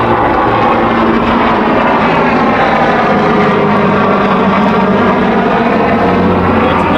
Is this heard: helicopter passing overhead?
yes